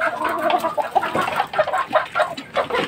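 Young gamecock stags cluck busily in a loud, close flock, short overlapping clucks and chatters running continuously without any talking.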